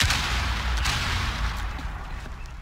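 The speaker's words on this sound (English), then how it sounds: "Frag grenade out." A frag grenade detonates in Rainbow Six Siege, a loud broadband blast at the start that decays into rumbling debris and noise over a couple of seconds.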